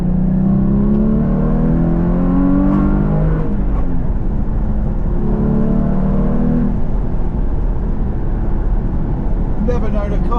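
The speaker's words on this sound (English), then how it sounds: "I want to experience the full volume of this car and what it has to offer" Porsche GT4 engine while driving, a loud sustained drone with rising and falling revs as the car accelerates through the gears, ending in steadier road noise.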